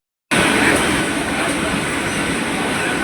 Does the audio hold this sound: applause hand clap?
no